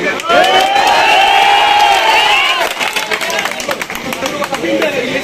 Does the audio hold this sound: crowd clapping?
yes